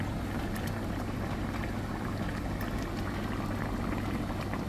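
Fish curry with coconut bubbles uncovered in a pan, a steady, close, continuous simmering hiss and burble with no talk over it.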